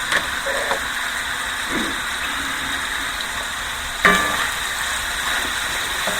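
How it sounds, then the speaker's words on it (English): Food for an enchilada meal simmers in a pan, a steady close bubbling sizzle throughout, with a brief sharp clink of a utensil partway through. "we'll just let that simmer"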